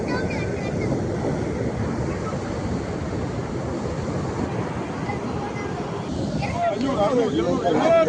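Ocean surf rolls and crashes steadily onto Neerodi beach with gusty wind noise, as waves push a fishing boat ashore, while people talk and shout nearby at a fish auction.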